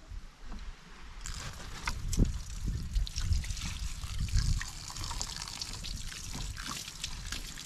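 Water splashes and trickles steadily nearby, a continuous bubbling flow like a running tap, with some rustling and movement throughout.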